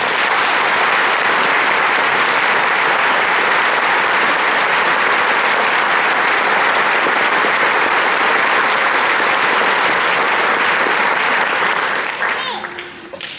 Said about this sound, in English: please join me in a round of applause for our newest American soldiers